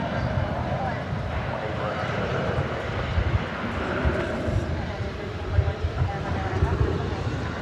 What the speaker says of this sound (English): There you see United Flight 1341. It's off to Denver. It's an Airbus A320.